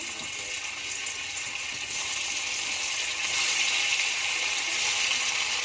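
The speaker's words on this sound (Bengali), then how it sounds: "তেলটা গরম হয়ে গেছে পনিরগুলো একে একে ভেজে নেব" Paneer pieces frying one by one in hot mustard oil, a steady close sizzle with broad hissing crackle that grows slightly louder partway through, with no talk.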